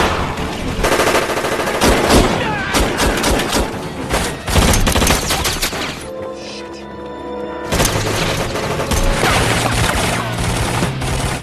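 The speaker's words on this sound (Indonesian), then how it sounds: "terjadilah baku tembak brutal, layaknya seorang sersan perang mempertahankan negara" Brutal film shootout, dense bursts of machine-gun and rifle fire crackling almost nonstop, broken by a brief lull midway before the volleys resume loud and close.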